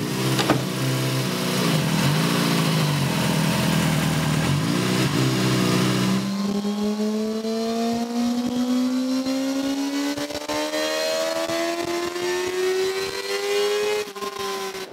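Track motorcycle engine on a dyno, first a rough loud idle and blipping, then a long steady run climbing in pitch as revs build, close and continuous.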